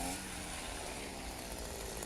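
A motorized earth auger bores a planting hole in soil for banana suckers, its small engine giving a steady, loud, continuous drone with a rough buzzing edge and no breaks.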